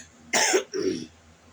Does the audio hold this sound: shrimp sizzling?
no